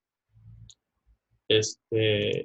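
Mouse clicks while working in AutoCAD design software, a faint low tap early on followed by two louder, close bursts of clicking.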